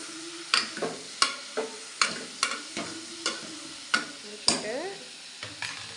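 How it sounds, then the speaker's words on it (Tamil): An onion and spice mixture sautés in oil over low heat for chicken gravy, a soft sizzle under about a dozen regular spoon scrapes and taps against the pan. "இப்போ இதை நல்லா வதக்கிவிடணும் நல்ல எண்ணெயில் வதக்கணும்"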